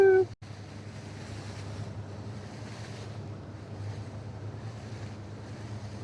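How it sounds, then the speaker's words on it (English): Big ocean waves during the Sydney Hobart yacht race: a constant roar of rushing water and wind buffeting the microphone aboard a sailing yacht, after a brief sharp noise at the start. "Big waves here."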